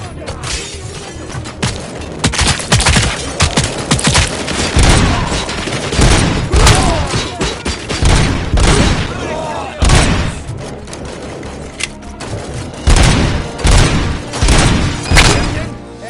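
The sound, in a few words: gunfire in the video game RoboCop Rogue City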